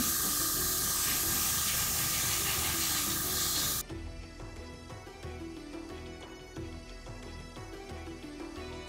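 An airbrush sprays a first thin coat of AMMO ATOM acrylic paint as a close, steady hiss for about four seconds, then cuts off, leaving quieter room noise with faint tapping.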